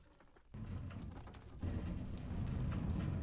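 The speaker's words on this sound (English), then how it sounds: "This rain is scaring me." Rain in a video game hisses steadily, growing louder in two sudden steps as the downpour gets heavier, with faint ticking patter in it and no speech.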